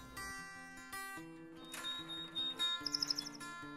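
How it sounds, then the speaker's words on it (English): A male canary sings a long, varied song of whistled notes, trills and a quick rapid-fire burst near the end, clear and close but fairly soft, with no talk. "I love the song of the male canary."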